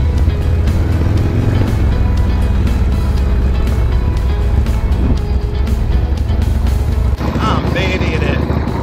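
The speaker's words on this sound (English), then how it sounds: "the first time I've ridden a motorcycle without helmet and gear on" Motorcycle engine droning steadily and loud throughout a ride, with wind and road rumble mixed in and a brief shift in tone near the end.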